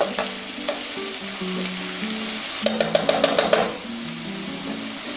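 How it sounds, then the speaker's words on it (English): Rice browning in a hot pan over medium-high heat for Cajun dirty rice, a steady loud sizzle with a quick burst of spoon scrapes and clinks as it is stirred partway through. "We want to brown our rice. Want it nice and brown, so we're going to stir it up"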